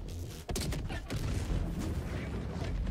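Hellbomb detonating in Helldivers 2, a loud booming explosion with dense rumbling low end and crackling debris that rolls on continuously for several seconds after a sharp onset.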